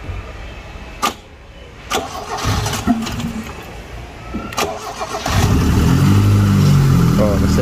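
A Proton Gen 2 car engine cranks and catches, then settles into a loud, steady idle that swells over the last couple of seconds, with brief clicks and knocks before it starts.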